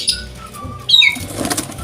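Wings of a Javanese zebra dove (perkutut) flap in a short burst, a soft close fluttering rush with faint chirps and background noise around it.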